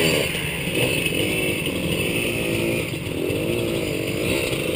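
Enduro motorcycle on a forest trail with steady engine drone and throttle swells, loud and close, continuous for the whole stretch with no talk.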